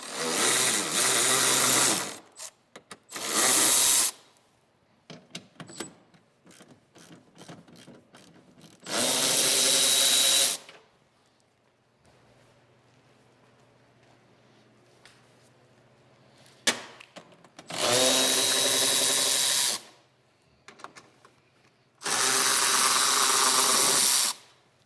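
A power drill or ratchet loosens 10mm cowl bolts on a 2013-2019 Ford Escape, loud whirring bursts of about one to two seconds separated by quieter gaps with light metallic clicks and handling noise.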